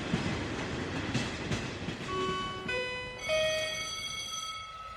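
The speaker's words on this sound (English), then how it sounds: "High-speed, express, and local trains." A passing train from a library of high-speed, express and local train recordings rumbles along, then a steady multi-tone train horn sounds and holds to the end.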